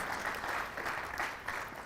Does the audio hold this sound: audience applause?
yes